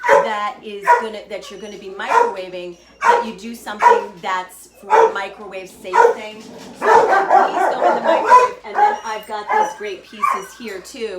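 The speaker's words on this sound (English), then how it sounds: "the dogs are gonna bark because this is just what happens when it's going like this" Dogs bark and whimper intermittently in the background of a kitchen while someone talks continuously about microwave-safe food containers during a meal planning session.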